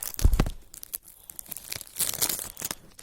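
A Pokemon trading card pack being torn open by hand, a burst of sharp ripping followed by crinkly foil crumpling and rustling, close and loud with no talking.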